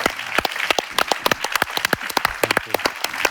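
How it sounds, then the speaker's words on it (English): Audience applause for the panelists closing the opening panel of the Helsinki Security Forum, a conference on major war returning to Europe: sparse, distinct handclaps from a modest crowd, crisp and close, with no talk. "May I please ask everyone to give a great round of applause to the panelists"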